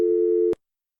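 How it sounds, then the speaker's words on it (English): A steady telephone tone hums for about half a second and then cuts off abruptly with a click, leaving silence. "Dial tone."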